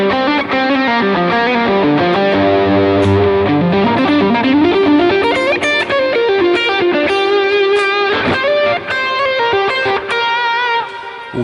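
An electric guitar run through a Line 6 Helix plays a driven lead tone, sustained harmonically rich notes and sliding phrases ringing out loud and alone with no talking.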